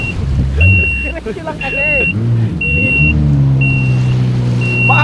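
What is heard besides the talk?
jet ski engine running on waves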